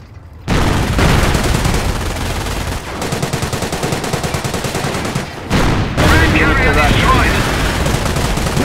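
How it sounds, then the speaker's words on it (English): A Panzer tank fires in Company of Heroes, producing loud, rapid, rhythmic bursts of gunfire that start abruptly, break off briefly and resume, with a voice speaking over it. "Notice the Panzer's slow rate of fire."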